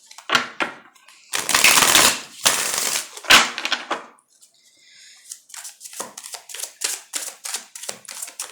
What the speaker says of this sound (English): All right, one more shuffle, please.